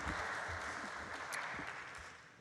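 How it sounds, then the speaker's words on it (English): Audience applause at a business conference presentation, steady and fairly faint, fading slightly toward the end with no talk over it. "Please join me in giving him a very big round of applause."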